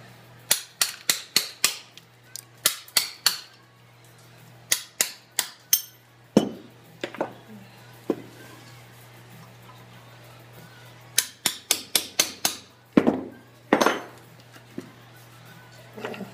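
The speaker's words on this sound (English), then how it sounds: "Chisel it out a bit more." Hand chiselling a hole in a soapstone block: sharp, dry strikes arriving in quick bursts of three to five, separated by pauses, with a few heavier knocks and a faint steady background hum.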